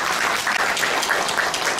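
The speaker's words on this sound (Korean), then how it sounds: "다시 한번 박수 부탁드리겠습니다" A lecture audience applauds at the close of a special talk on Korea–US relations, a steady, dense clapping that holds at an even level for about two seconds with no voices over it.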